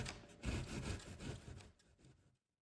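A drywall knife is drawn by hand through foam, making a close, rasping sawing scrape that runs for about two seconds and fades before falling to silence.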